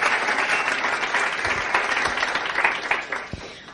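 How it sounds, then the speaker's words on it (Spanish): An audience at a bilingual Spanish–Portuguese performance gives a big round of applause to the hosts. The clapping is loud and sustained, with scattered sharper claps standing out, and it eases slightly toward the end. "E les pido um aplauso muito grande para eles. Um aplauso para eles."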